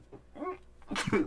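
One loud, sharp sneeze bursts out after a short inhaled build-up, close to the listener.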